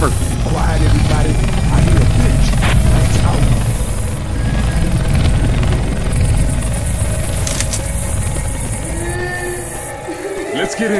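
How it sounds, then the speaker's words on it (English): A helicopter flies overhead in Left 4 Dead 2 on a carnival level, a loud continuous rotor drone under gunfire, game effects and shouted character voices. "Hey, we need to signal that chopper."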